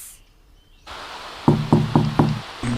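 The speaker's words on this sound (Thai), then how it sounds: "ซากุระเปิดประตูให้ผมหน่อย" A video game sound of knocking on a door: four evenly spaced wooden knocks in quick succession, then one more after a short pause, close and clear with no voices.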